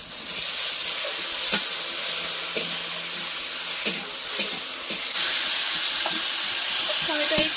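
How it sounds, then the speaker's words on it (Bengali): Tomatoes sizzle and fry in hot oil with spices while fish curry is cooked, a steady broadband hiss running throughout with scattered sharp clicks and spatula scrapes, close and fairly loud. "টমেটো দিয়ে কষাই করে নেব।"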